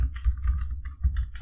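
Quick clicks of keys being typed on a keyboard in short bursts, near and fairly soft, with a low rumble underneath.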